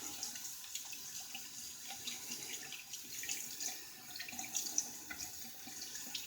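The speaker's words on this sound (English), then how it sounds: "I use running water instead of a sink full of water" Tap water running steadily to rinse a shaving brush, a soft continuous splashing hiss with no speech.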